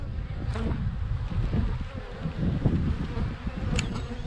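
Honey bees buzz in a dense, steady drone throughout, close and continuous, with a few brief higher whines of individual bees passing near during an open hive inspection in April.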